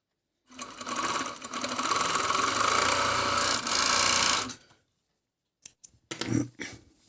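An Agat 51-274-4 overlock sewing machine stitches through four layers of fabric in a steady, close whirring run for about four seconds, then stops; a few short mechanical clicks and handling sounds follow.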